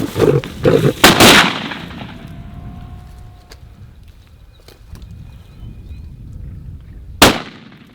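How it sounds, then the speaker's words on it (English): Several sharp, loud rifle shots ring out close together at the start during a lion hunt in the bush, then a quieter stretch with faint calls and movement, and one more close, powerful shot near the end. "Ek het hom nog een keer in die bors geskiet hoor"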